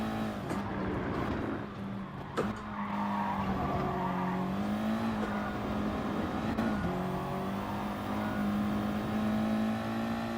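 A heavy race car in GT Sport at Dragon Trail Seaside holds a steady engine drone, its pitch dipping and wobbling under braking, with short tyre scrubs. The sound stays fairly quiet and there is no talk.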